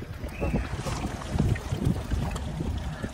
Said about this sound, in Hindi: अब बोट राइड का मजा लेते हैं